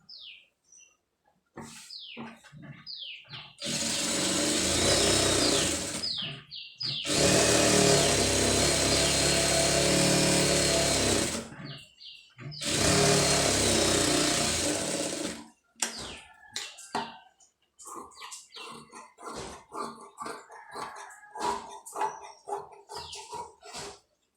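An electric sewing machine stitches thread piping around a garment sleeve in three long, steady whirring runs, with short pauses and scattered clicks of handling between them.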